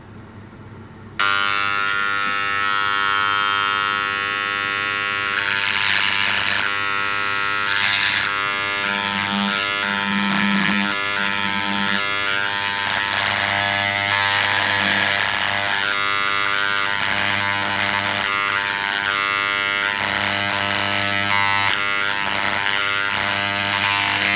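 A Dremel 290 engraver fitted with a blunt sewing-pin tip prepping fossils gives a loud, steady electric buzz with bright harmonics, running continuously and shifting texture as the tip works against the stone.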